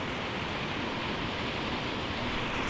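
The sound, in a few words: waterfall rushing water at Avalanche Lake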